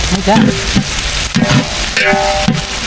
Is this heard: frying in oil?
yes